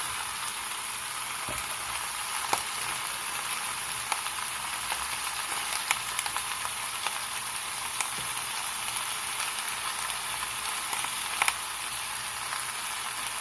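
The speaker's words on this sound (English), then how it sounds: "I have to put all my onions in there" Onions sizzle in a pan for a Korean spicy fish stew, giving a steady, even frying hiss throughout with a few faint clicks and no voices.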